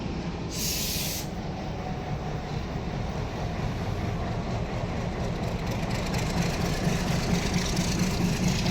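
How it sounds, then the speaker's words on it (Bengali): A Narayanganj commuter train pulls away from platform 14 at a Dhaka station, a steady, loud rumble and hiss of the moving train that holds at an even level throughout, with one brief sharp hiss near the start. "চোদ্দ নম্বর প্ল্যাটফর্ম থেকে নারায়ণগঞ্জ কমিউটার ট্রেন চলে যাচ্ছে নারায়ণগঞ্জের উদ্দেশ্যে"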